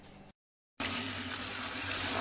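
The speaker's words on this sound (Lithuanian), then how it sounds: "Dabar kiaušinukus sudėsiu į indą kažkokį ir užpilsiu šaltų vandenį." Cold tap water pours into a bowl holding eggs, a steady broadband gush that briefly stops, then resumes and runs continuously at close range.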